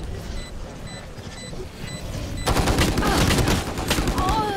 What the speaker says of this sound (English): Swarm grenade out.